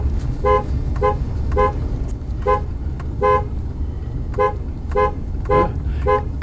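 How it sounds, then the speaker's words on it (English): A car horn toots in a long series of short, evenly spaced honks over the steady hum of passing cars on a road near a party, fairly loud and close, with no talking. "Couple of cars."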